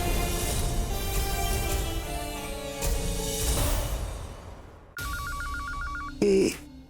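A telephone starts ringing near the end of a tense household scene, a short electronic trill cutting in after a sudden drop in the background music, followed by a brief loud thump.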